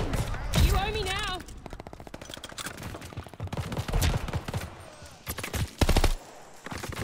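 Rapid gunfire bursts in Call of Duty: Vanguard hardpoint multiplayer, sharp cracks in quick rattling volleys interspersed with louder single shots, mid-distance and mixed with game effects and a brief voice.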